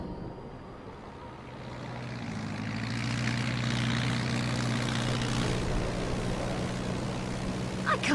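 Propeller plane in flight in an animated action film: a steady engine drone with a low humming tone that swells slightly louder midway and continues without talk.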